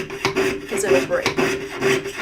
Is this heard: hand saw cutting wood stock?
yes